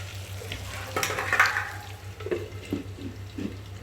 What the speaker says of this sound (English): we'll allow the onions to heat for some time